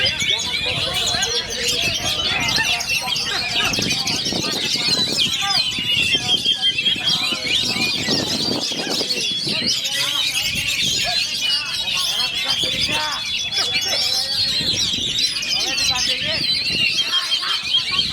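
Kacer magpie-robins sing continuously at a songbird contest, dense high chirping and trilling from several birds over a crowded, noisy background with voices throughout.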